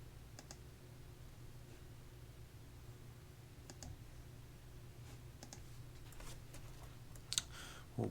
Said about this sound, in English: I'll type it all in here